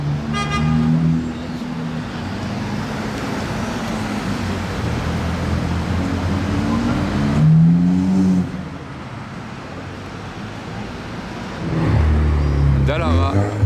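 A blue and orange Ferrari SF90 XX Spider runs past at a historic Grand Prix in Monaco, its engine tone rising and falling in swells, with a horn-like toot and the roar surging again near the end over talk.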